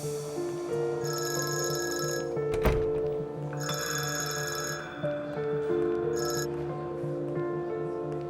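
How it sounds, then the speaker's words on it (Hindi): A telephone rings in a domestic drama scene, sounding in repeated electronic bursts separated by short pauses, clear and fairly close, with a brief thump partway through and no talking. "दुआ का फोन है"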